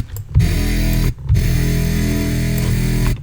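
Sustained, buzzy synthesizer brass chords from the Serum synth with a resonant filtered edge and reverb, played in two loud stabs separated by short gaps.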